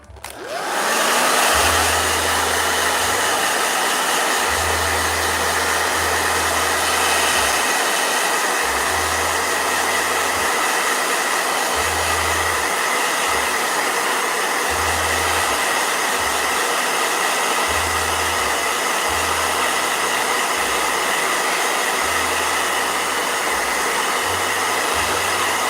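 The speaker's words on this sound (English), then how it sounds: "Blow dryer." A blow dryer runs continuously at full power, a loud steady whooshing roar with a low motor hum, heard alone with no talk over it.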